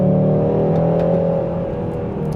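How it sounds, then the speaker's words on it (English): A front-wheel-drive 2025 Hyundai Sonata accelerating hard in sport mode with a little wheel spin, its engine a loud, steady, close drone with no talking. "All right, let's floor it. A little bit of wheel spin."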